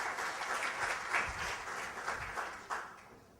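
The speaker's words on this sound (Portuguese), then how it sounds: "Por favor, Luciana, palmas para ela, que vai falar do case Instituto Crescer." An audience at an education event applauds with sustained, dense clapping heard up close and fairly loud, swelling slightly before tapering off.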